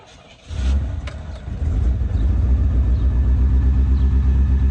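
A 1984 Chevrolet Corvette engine cranks briefly, catches and settles into a steady, loud, close rumbling idle with no talk over it.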